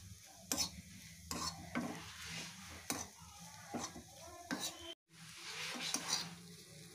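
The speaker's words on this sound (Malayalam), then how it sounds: "എന്നിട്ട് നമുക്കിത് ഗോൾഡൻ കളർ ആവുന്ന വരെ ഒന്ന് ഫ്രൈ ചെയ്തെടുക്കണം" A sweet frying in hot oil until golden brown, a faint steady sizzle with repeated scraping and stirring of a utensil against the pan, close and quiet, with a brief dropout partway.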